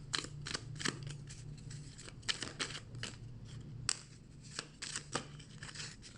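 Small oracle cards being shuffled and drawn at a table, giving a series of crisp papery riffles and snaps in short bursts over a low steady hum, with no talking.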